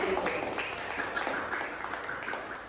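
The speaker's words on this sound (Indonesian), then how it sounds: "Tepuk tangan dulu." Applause from a small group closing a podcast on religion, moderately faint and brief, with scattered claps and some light voices mixed in before it tapers off.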